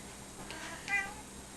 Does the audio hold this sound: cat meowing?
yes